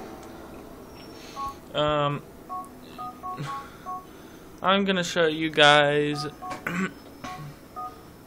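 Phone keypad tones from dialing a cheat code on the in-game phone in GTA IV on PS3, a run of short, clear beeps in quick succession, with someone talking between and over them.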